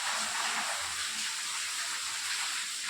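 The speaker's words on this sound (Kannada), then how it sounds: "ಸಖತ್ತಾಗಿ ಬರ್ತಾ ಇದೆ ಮಳೆ ಫ್ರೆಂಡ್ಸ್." Heavy rain pours outside a traditional courtyard house, a dense, steady hiss of falling water heard close and fairly loud throughout.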